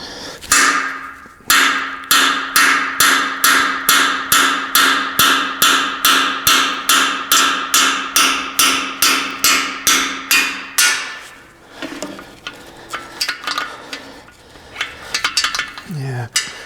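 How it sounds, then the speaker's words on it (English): A hammer drives split valve guides out of a 79-year-old Jeep engine, ringing with about twenty rapid, evenly paced metallic blows close by, then stopping to leave quieter clinks and handling noise. "I really want to try not to hit this GoPro with a hammer."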